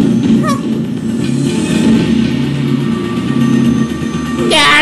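A train rumbles through the Twisted Metal video game's Hong Kong level, a loud, steady mechanical drone with humming tones. A bright rising game effect bursts in at the end.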